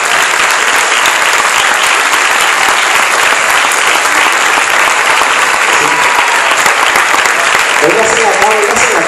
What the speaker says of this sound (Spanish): Yo quiero que ustedes den un aplauso.